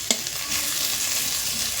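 Chopped onion fries lightly in a pan with a steady close sizzle and one brief stirring scrape near the start, with no talking.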